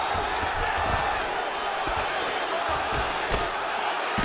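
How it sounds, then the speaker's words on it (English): A crowd roars steadily through a bout in the UFC 5 video game, a dense, continuous wash of cheering with occasional thumps and impacts, loud and unbroken for several seconds. "the crowd pops in appreciation as the fighters work their way back"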